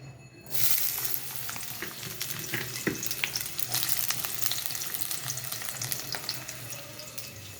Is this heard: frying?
yes